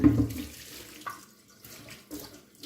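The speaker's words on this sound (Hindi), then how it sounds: "अब इसमें पानी डालेंगे" Water splashes and pours onto a scraped, greasy iron tawa griddle during washing, a close burst at first and then softer trickles and drips.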